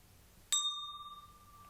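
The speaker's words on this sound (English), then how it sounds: "I'm going to ring the bell" A single bell struck once during a lying-down yoga relaxation, a sharp metallic ding that leaves a long, clear ringing tone slowly fading over quiet room noise.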